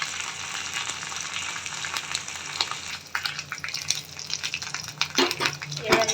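Ginger-garlic paste sizzles in a hot pan of oil for restaurant-style chili chicken, a continuous close frying hiss broken by scraping stirs and a few clinks of the spatula against the pan.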